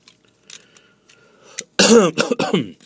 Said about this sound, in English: It's just this minor annoying cough.